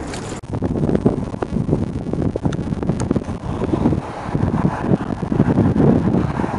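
Steady headwind roars and buffets against the microphone while cycling, loud and close, with gusty fluctuations throughout and no voices.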